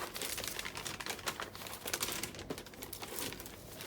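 Crisp white tissue paper crinkles and rustles continuously as it is unwrapped from a Chanel trainers box, close and fairly steady, with sharper crackles scattered throughout and no talking.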